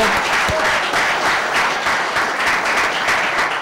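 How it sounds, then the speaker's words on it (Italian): Sustained applause from an audience at an Italian sports award ceremony, steady dense clapping throughout, loud and close, with no voices over it. "facciamo un applauso"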